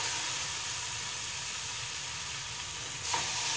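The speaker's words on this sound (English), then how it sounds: "As soon as you put them on there, they should sizzle." Burger patties sizzle loudly and constantly in a hot pan, a dense hiss with a brief scrape near the end.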